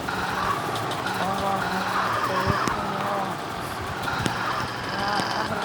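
Car driving in the GTA San Andreas video game, a steady engine drone with tire skids and brief squeals throughout, loud and continuous, with game noise layered over it.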